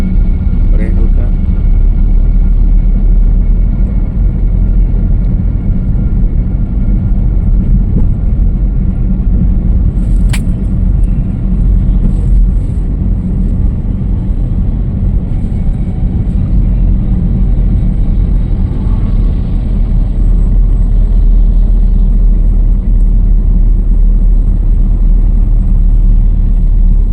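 A car's engine drones loud and steady from inside the cabin during a driving lesson while shifting into third gear, with an instructor talking over the continuous rumble.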